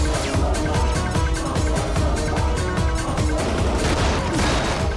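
Rapid gunfire in a Bollywood action film, dense bursts of shots crackling continuously and loudly without pause, with no talking.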